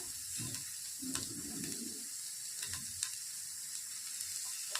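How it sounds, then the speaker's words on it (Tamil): Chopped curry leaves and green chillies sautéing in hot oil for kara paniyaram, a soft continuous sizzle with light stirring scrapes, fairly quiet and close, no talking. "இப்போ கொஞ்சம் நல்லா வந்து வதக்கிக்கிட்டே இருப்போம்"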